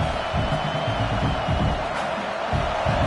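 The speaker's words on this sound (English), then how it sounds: "listen to this crowd noise. This stadium is vibrating." Stadium crowd roaring and cheering in the College Football 26 video game, a dense, steady wall of noise that holds loud and unbroken throughout with no talk over it.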